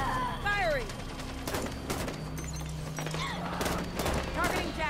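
Rapid gunfire from the video game Halo 5: Guardians, bursts of shots crackling over a steady low game hum with descending electronic whines, fairly loud and continuous throughout.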